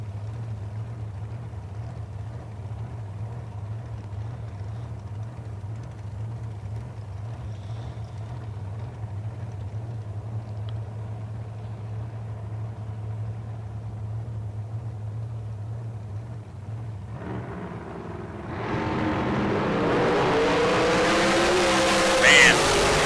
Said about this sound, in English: Melton on and off the throttle properly.